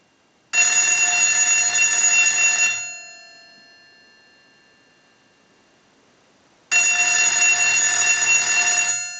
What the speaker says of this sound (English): we're going to ring the unit. So we'll go ahead and start a ring cycle.